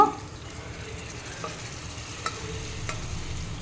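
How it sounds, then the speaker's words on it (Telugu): Pressure-cooked mutton is stirred into masala frying in a pan, giving a soft continuous sizzle broken by a few light scrapes and clinks of the spoon. "మనం ముందుగా కుక్కర్లో ఉడికించుకున్న మటన్ వేస్తున్నాను"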